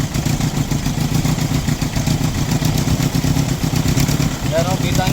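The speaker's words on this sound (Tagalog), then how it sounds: "namamalya po yung engine" Toyota 2C diesel engine with a misfire and hard starting, running roughly close by with an uneven, chugging low-frequency pulse throughout, while people talk over it.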